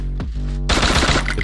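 Automatic gunfire in the mobile shooter game Free Fire, a single sharp shot followed by a loud, close, continuous rapid burst, with no talk.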